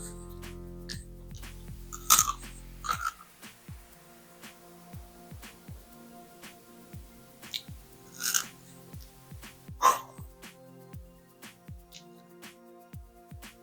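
Crunchy Dubai chocolate being bitten and chewed close up, a series of sharp cracks and crisp crunches spread unevenly over several seconds, with no talking.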